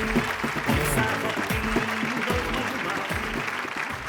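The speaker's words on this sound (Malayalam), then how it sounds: "ഒരു നല്ല കൈയടി എന്നേ." A studio audience on a TV game show applauds for the next contestant, with steady dense clapping that carries on under a voice and some music throughout.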